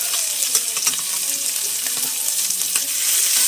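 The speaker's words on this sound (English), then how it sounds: "Oh, it's time to flip your bacon." Bacon sizzles and crackles steadily in a hot pan as it is flipped for burgers, a dense close hiss with small scraping ticks and no voices.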